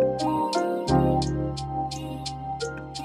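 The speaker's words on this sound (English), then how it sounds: "that's your hi-hat's going to sound like this" A programmed hi-hat drum loop made in Studio One ticks in short, crisp, evenly spaced hits over a low sustained tone, with a brief drop in the bass near the start. It plays at a moderate level with no talking.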